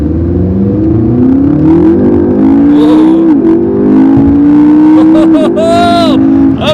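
A stock McLaren MP4-12C pulls away hard from a light on a street cruise, its engine note climbing steadily through the gears with quick shift breaks, loud and close from inside the car while people talk over it.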